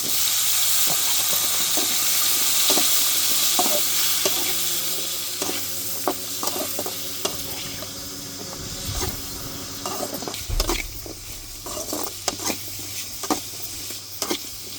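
Ginger, garlic, green chillies and tomatoes frying in a pan for a country-chicken broth, with steady loud sizzling and repeated scraping stir strokes across the pan, easing somewhat in the second half.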